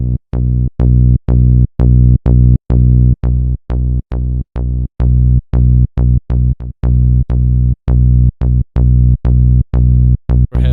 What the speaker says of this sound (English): if we add a little bit of distortion by switching it on to the low end